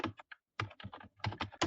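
Typing on a computer keyboard while entering marksheet data in Excel, with quick bursts of keystrokes separated by short pauses, close and clear with no talking.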